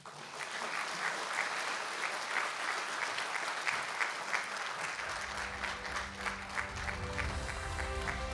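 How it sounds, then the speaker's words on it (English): Sustained applause from a conference audience after a speech at a global health and welfare forum in Taiwan, a dense wash of clapping; partway through a low musical tone enters beneath it. "Let us give a big applause for you."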